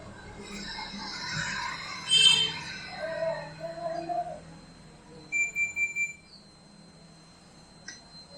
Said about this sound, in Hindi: इसका अगर बजर की साउंड देखें, काफी लाउड है